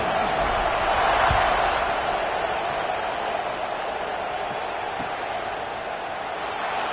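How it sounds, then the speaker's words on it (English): Stadium crowd in College Football 26 buzzing after a score late in the final period of an LSU game, a dense, steady roar of many voices filling the whole stretch, broad and fairly loud. "this crowd is buzzing after that last score"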